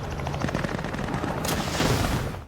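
Rapid automatic gunfire rattles in dense, continuous bursts from an action-film shootout, loud and close, with a sharper crack partway through.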